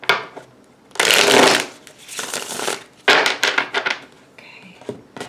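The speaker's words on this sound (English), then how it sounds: "Okay, we'll do one more shuffle." A deck of tarot cards being shuffled close up in bursts of riffling and sliding, loud crisp flurries separated by short pauses.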